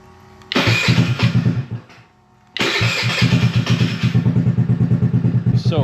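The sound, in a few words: GY6 139QMB 50cc big bore scooter engine starting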